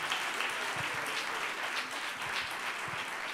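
An audience at a children's reading-aloud contest applauds a speaker. Continuous, fairly soft clapping runs evenly for a few seconds with no voices over it.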